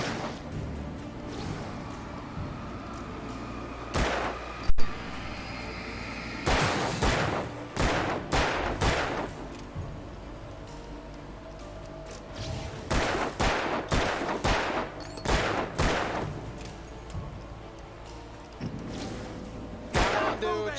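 Gunfire in the Alan Wake video game: several sharp bursts and single shots scattered through a tense fight, loud and close, with a voice talking between the volleys.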